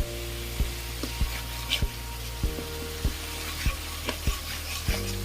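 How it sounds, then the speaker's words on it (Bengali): Cumin paste frying with beef masala in a pan, a steady sizzle under a low humming background, punctuated by regular spoon knocks and scrapes roughly every half second as it is stirred. "মশলাটা পুড়ে যাওয়ার সম্ভাবনা, বেশি করে একটু নেড়ে দিতে হবে, মানে মশলাটা লেগে দিতে পারে। এখন আমি জিরা বাটাটা দিয়ে দিচ্ছি।"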